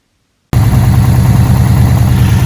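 Subaru Impreza WRX engine fitted with a Bailey dump valve: after half a second of silence it bursts into life and settles into a loud, steady, rumbling idle close by.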